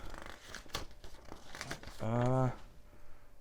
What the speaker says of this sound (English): Next we got a piece of paper.